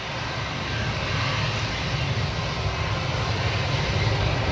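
An airplane lands on runway 14 at Gold Coast Airport, with a steady loud engine roar and broadband rushing noise throughout, heard from nearby with no talking.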